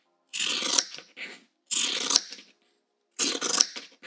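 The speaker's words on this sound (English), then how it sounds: "I think I'm going to use my Kai pinking shears." Kai pinking shears cutting through fabric, three separate crunching snips in a steady rhythm, each a short burst of close, crisp blade-on-cloth chewing with brief pauses between.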